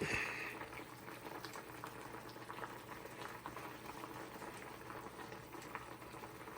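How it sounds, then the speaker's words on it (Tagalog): Beef liver sizzles in a pan with a steady, dense crackle and bubbling that continues evenly throughout, moderately close, with no talking. "ito piprito ko yung atay na baka"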